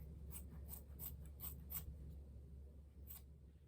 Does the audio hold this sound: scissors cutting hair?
yes